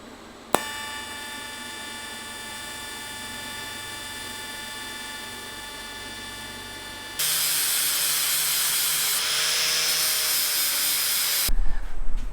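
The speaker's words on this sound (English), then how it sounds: "Let me throw that heatsink back on there and weld it." Welding on chopped Ford Model A roadster top irons gives a steady crackling hiss that starts abruptly partway through and holds loud for several seconds before cutting off, with a tonal whine earlier.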